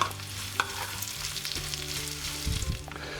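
Chopped vegetables for lecsó being stirred in a pan, a soft sizzle with scraping and light clinks of the utensil, fairly quiet and close, with no talk.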